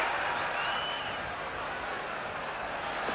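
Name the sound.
football crowd in the stadium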